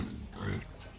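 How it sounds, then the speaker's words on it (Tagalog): A sow on a provincial farm grunts in a low, continuous rumble, close and fairly loud, as she waits to be fed in the morning. "Yan yung inahin"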